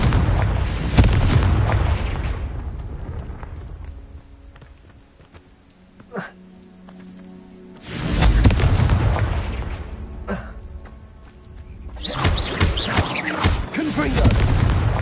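Explosion spell blasts in Hogwarts Legacy, three heavy booming bursts with rumbling tails, loud and close, separated by quieter stretches.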